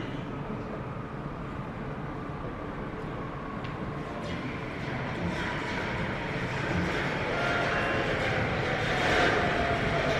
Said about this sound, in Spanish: Ahora disfrutemos de estos maravillosos trenes del metro de Sapporo.